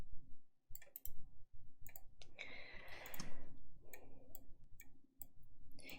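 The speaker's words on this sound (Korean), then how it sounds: "제가 지금 이걸 마우스로 쓰고 있거든요" Computer mouse clicking in irregular bursts of sharp ticks while someone writes by hand with the mouse, close and clear with no talk.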